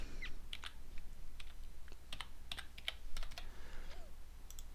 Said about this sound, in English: I have a number here that I'm going to type in.